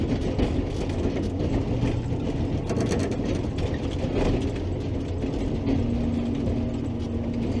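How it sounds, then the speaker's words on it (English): A snowplow blade scraping over rocks on a snowy mountain road, heard as a continuous loud grinding rumble with rattling, clanking scrapes throughout. "Hear that? That's the sound of the blade hitting all the rock in the road."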